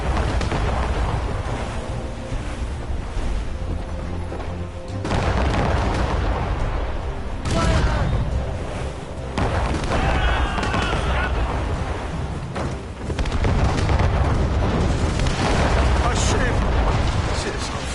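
Cannon fire and explosions ring out in a naval battle in Assassin's Creed Rogue Remastered, repeated heavy booms and bursts over a dense battle din, with voices shouting through it.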